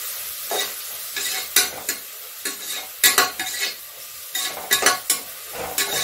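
Crushed ginger and garlic sautéing in a pan for Tamil mint rice, with bursts of sizzling and a spoon stirring and scraping at irregular intervals, close and fairly loud, with no talking.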